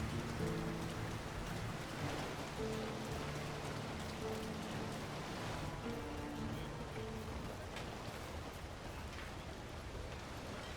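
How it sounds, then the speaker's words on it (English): Steady rain falls over a town in a fantasy video game, a soft, constant patter that runs unbroken throughout, with faint low tones of game music beneath. "Who could live in a town where it's always raining?"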